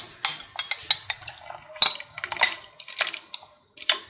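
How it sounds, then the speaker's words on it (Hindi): A metal spoon clinks and scrapes against a pot as rice paste is stirred into hot milk for mango rice kheer, with repeated close, bright taps in an uneven rhythm. "आप इसको दूध में डालें और चम्मच चलाते जाएं"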